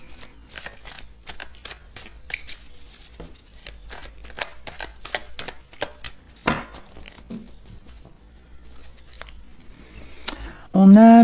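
A deck of tarot cards is cut and handled with a run of quick, crisp snaps and crinkles at close range, then a voice speaks briefly at the very end.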